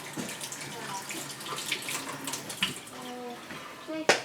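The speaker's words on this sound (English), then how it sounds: "Let me wash my hand here" Tap water runs steadily into a sink while hands are washed in a home kitchen, a close, continuous hiss and splash with a clatter near the end, as people talk nearby.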